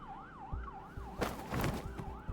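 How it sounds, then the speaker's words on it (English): Police sirens in the Love and Deepspace video game wail in a rising and falling sweep, fairly faint and distant, with soft thumps and a brief burst of noise partway through. "the piercing wail of police sirens grows closer"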